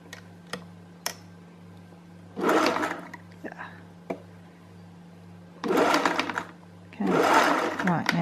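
A sewing machine stitches a fabric gusset for a zero-waste dress in short bursts of rapid, close mechanical whirring, separated by quiet pauses with a few sharp clicks.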